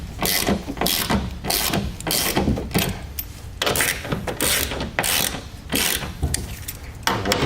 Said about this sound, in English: Go over them again and start retightening.